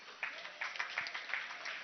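Applause for the Parliament Choir in the National Assembly of Zambia chamber, a faint, steady patter of many hands clapping at a distance with a few sharper claps standing out.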